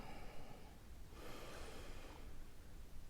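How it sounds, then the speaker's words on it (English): A long, deep inhale during a meditation session, a soft breathy rush swelling gently for about a second and a half and then fading, close and quiet with no talking. "Just taking a moment to inhale and feel your breath through your body"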